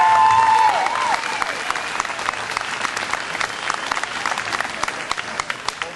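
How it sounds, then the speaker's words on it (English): A crowd at a Fourth of July Tea Party gathering in Charlottesville gives a big round of applause, dense clapping that starts loud and gradually thins, with some crowd noise underneath. "Big round of applause."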